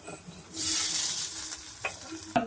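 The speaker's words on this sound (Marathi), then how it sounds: "आता आपण टमॅटो टाकूया" Tomatoes tipped into hot oil with browned onions set off a loud burst of sizzling that holds steady for about a second, then eases, with a couple of sharp spatula scrapes and clanks near the end.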